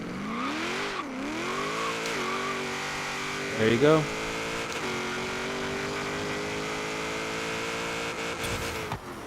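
A 1972 Ford Falcon XA GT-HO makes a drag launch in Forza Horizon 3. The engine revs and climbs through the gears with steady, rising harmonic whine and a brief scrabble of spinning tires. Someone speaks briefly over it.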